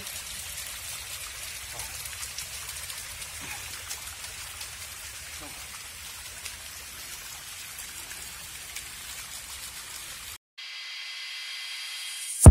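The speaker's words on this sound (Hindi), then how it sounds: "अभी फुल वाटरफॉल इधर" A waterfall on a hill trek at Yogi Hills near Mumbai gives a steady, broadband rushing hiss throughout, with a person speaking briefly over it before a sudden cut.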